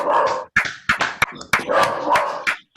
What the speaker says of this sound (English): And I like the dog joining in as well.